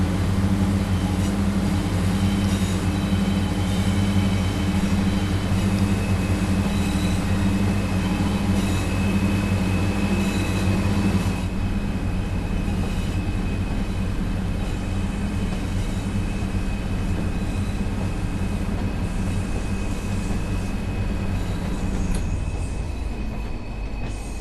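A Pacer train in Train Sim World 4 drones along the Tees Valley line from Saltburn to Darlington. A loud, steady engine hum and rail rumble run throughout, and the tone shifts about halfway, with no talk.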